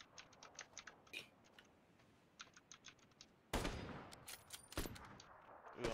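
Automatic weapon fire in the video game PUBG: faint rapid clicks at first, then a loud burst of sustained shots with sharp cracks through the second half.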